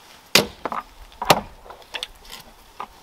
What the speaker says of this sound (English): Not really made for chopping wood like this, but it does whatever you want it to.